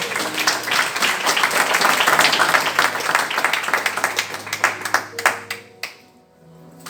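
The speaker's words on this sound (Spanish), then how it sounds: "¿Por qué no le das un aplauso a la palabra del Señor en esta mañana?" Church congregation applauding at a Spanish-language service, a dense burst of clapping that fills most of the clip before thinning into a few scattered claps and fading out.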